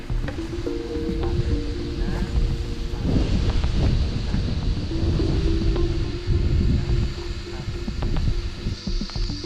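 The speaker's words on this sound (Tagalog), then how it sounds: "buti malakas yung hangin, no?" Strong wind gusts buffet the microphone with low rumbling bursts, while people talk nearby outdoors.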